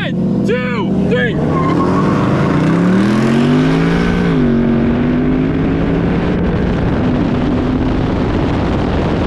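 A Mustang GT 5.0 with a 10-speed and a Charger 6.4 Hemi rev hard, then launch from a dig in a drag race: loud, close engine roar climbing through gears, with voices talking nearby.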